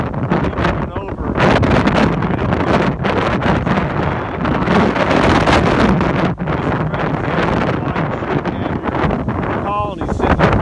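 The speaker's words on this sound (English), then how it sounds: "The winds are really strong and high." Strong, gusting high wind buffets the microphone outdoors at a bee yard, a loud continuous roar with rustling throughout; a person's voice is partly audible under the noise.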